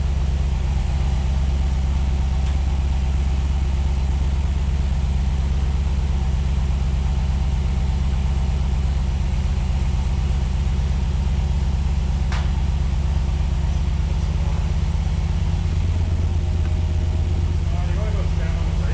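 Plymouth car engine running on a Holley Terminator fuel injection setup, a loud, steady low rumble held throughout with slight rises in revs toward the end.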